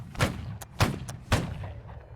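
Three heavy, evenly spaced thuds from musket balls striking a tree or from cannon fire in the game Holdfast: Nations at War, each a deep booming impact with a short fading tail.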